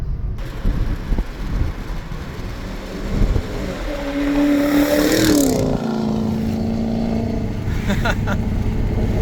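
A V8 Genesis sedan with an X-pipe exhaust makes a flyby, its engine note rising to a loud, sustained drone as it nears and then dropping in pitch as it passes, over faint background rumble.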